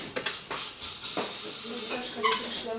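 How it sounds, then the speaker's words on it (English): Hairspray spritzed onto styled, curled hair in short repeated bursts, close hissing puffs that merge into one longer spray near the middle. "you put some hairspray to fix."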